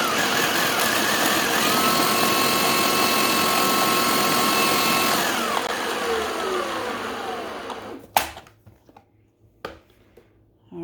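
A food processor grinds ingredients for paleo brownies into a coarse, sand-like texture, its motor whirring loudly and steadily before winding down, followed by a few sharp clunks and rattles.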